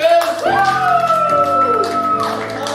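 Live audience at an improv comedy show cheering with a loud sustained whoop that slides up and holds, over a continuous crowd din.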